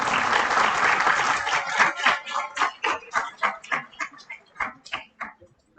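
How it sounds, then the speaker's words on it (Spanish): Audience applause at a business conference ceremony, starting as dense loud clapping from a crowd and thinning into scattered individual claps that fade out over several seconds. "Aplausos, por favor."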